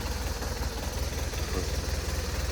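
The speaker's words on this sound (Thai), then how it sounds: "เครื่องยนต์ดีนะ เดินวิ่งเงียบ" A grey BMW R1200RT motorcycle with low mileage idles close by, its steady low engine rumble running evenly and continuously with slight vibration and no talk.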